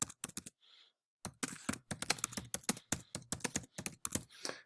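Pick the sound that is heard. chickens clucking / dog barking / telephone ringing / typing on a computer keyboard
typing on a computer keyboard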